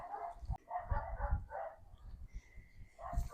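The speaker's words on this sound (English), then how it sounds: "Caleb and Tucker tend to bark at each other" Two dogs bark back and forth at each other in short, close yaps and woofs, with brief pauses between the bursts.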